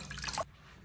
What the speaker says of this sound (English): change the water and rinse the corn one more time